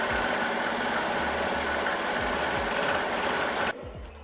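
An embroidery sewing machine stitches a design onto a shirt, a dense, steady mechanical whir with rapid needle chatter running loud and continuous, cutting off abruptly near the end and leaving a quieter hum.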